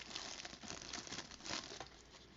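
A plastic bag crinkles around an earbud charging case as it is handled up close: continuous rustling and crackling, with a few sharper crunches and no voices.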